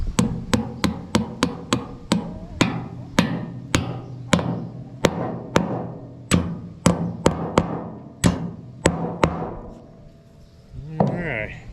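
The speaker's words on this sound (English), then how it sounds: "we got our hammer here. We can tap these in with." A hammer taps pieces into pre-drilled holes in a new wooden deck on a gooseneck trailer, giving a long series of sharp, close, ringing strikes in uneven bursts, with a short pause near the end.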